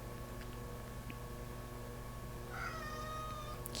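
A house cat meows softly a couple of times near the end, faint against a steady hum of background music in a quiet indoor setting.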